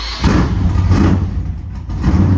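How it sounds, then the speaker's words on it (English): A 1978 Chevrolet Malibu Wagon's loud exhaust rumbles deep and close, swelling in a couple of quick revs over a heavy, throaty low drone, with no voices. "I'll let you guys hear my exhaust real quick"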